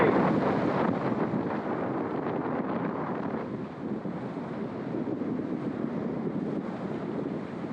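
Steady wind roars across the microphone on a sailboat at sea in winter, a broad rushing noise with waves and water washing beneath it, continuous and fairly loud with no voices.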